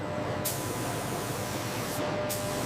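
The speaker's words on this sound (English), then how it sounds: "The hides pass through an automatic spray line." A continuous loud hiss of an automatic spray line coating leather hides fills the clip, with brief sharper bursts of spray near the start and end.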